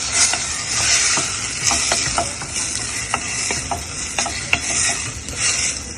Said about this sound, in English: Salt, and then you just saute this.